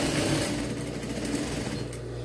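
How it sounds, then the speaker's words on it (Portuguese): A sewing machine stitches a universal fabric hem, running in a steady, rapid mechanical whir with fine rattling needle beats, close by and continuous, with no speech. "E vamos costurar todinho aqui, ó."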